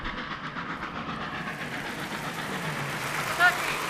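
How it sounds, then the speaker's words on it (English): A train rumbles by with a steady low clatter in snowy weather, moderately distant and continuous throughout, with a faint voice over it. "Oh, yeah, it sounds like a train coming."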